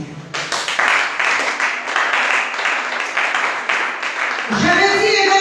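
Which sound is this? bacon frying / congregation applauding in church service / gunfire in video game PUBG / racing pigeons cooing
congregation applauding in church service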